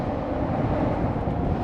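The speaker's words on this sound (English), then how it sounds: "it's super windy right now." Strong wind buffets the microphone on a bridge in a steady, rumbling roar for a brief moment, with no other sounds standing out.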